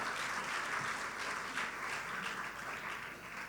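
A crowd at a national Malay language carnival prize-giving ceremony in Malaysia claps in sustained applause, a dense, even rattle of many hands that holds steady and tapers slightly at the end.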